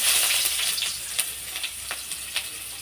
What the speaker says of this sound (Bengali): পেঁয়াজ তেলের ওপর দিয়ে দিয়েছি পাঁচ ফোড়নের পেঁয়াজ